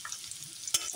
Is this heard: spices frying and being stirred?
yes